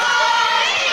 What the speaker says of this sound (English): Craven firing back and forth with the crowd now.